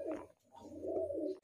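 A Madrasi pigeon gives a short, close, low cooing call, two soft rolling phrases with a brief pause between them.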